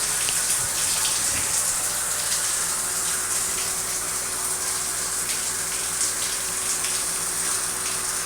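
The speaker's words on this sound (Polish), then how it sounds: "Mamy prysznic, mogę pokazać jaki." Water from a hotel bathroom shower runs in a steady, broad hiss, loud and constant throughout with no talking.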